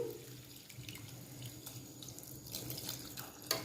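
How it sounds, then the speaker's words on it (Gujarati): Water runs from a tap or is poured into a pot of mixed dal while making dal fry, a soft continuous splashing trickle heard close but faint, with no talking. "હવે આપણે પાણી એડ કરીશું"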